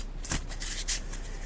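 Oracle cards being mixed by hand for a tarot reading, giving a short papery riffle with two brighter flicks amid a soft continuous shuffle, close and alone.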